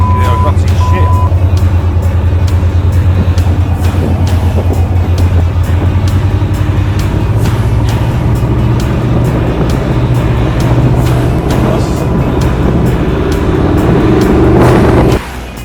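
Twin 9.1 litre V8 engines on a Cigarette 36 Gladiator powerboat roar loud and close with a steady, deep drone that climbs slightly in pitch toward the end, then cuts off abruptly.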